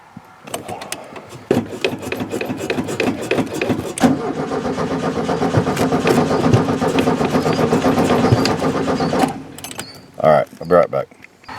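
A 1970 VW Beetle engine cranks and catches, then runs steadily for several seconds before cutting out, followed by a few short bursts and clunks.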